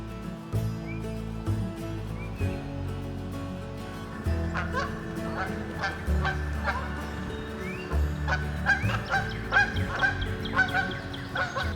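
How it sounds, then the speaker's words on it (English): Geese honk repeatedly in a misty field corner during spring turkey hunting in Maine, loud nasal calls coming in irregular bursts over a low outdoor rumble. "This goose thinks he's a wood duck."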